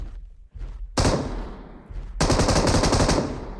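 Rapid automatic gunfire from the BGMI (PUBG Mobile) mobile battle royale game, loud bursts of close rattling shots that stop briefly and then resume in a dense, sustained volley.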